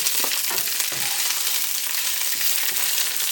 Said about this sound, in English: So we're just going to saute it for just a minute